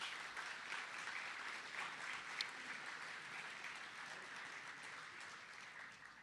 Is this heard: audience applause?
yes